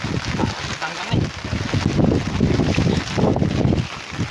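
Strong wind gusting and buffeting the microphone outdoors near the water, loud and continuous in surges, with people talking under it.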